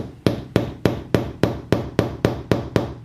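A hammer taps a metal punch to mark a drilling point for a sliding glass door lock, ten sharp evenly spaced strikes ringing close and loud with no talking.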